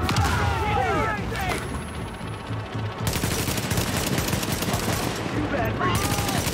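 Gunfire rattles in The Division video game, with dense automatic bursts and booming shots filling the scene loudly and continuously, and a short pause in the middle.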